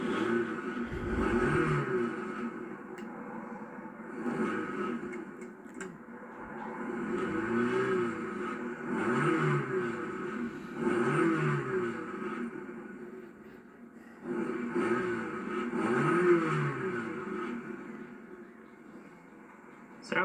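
A 1992 Nissan Stanza XE engine idles and revs in repeated swells, rising and falling several times over a steady running hum, close and fairly loud.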